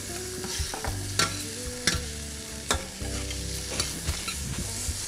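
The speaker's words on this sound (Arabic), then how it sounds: "الدجاج مثل ما قلنا بدنا نعطيه لون بالمقليه" Chicken breast browning in olive oil in a frying pan with coriander, a steady close sizzle broken by sharp clacks and scrapes of a utensil stirring, no voices.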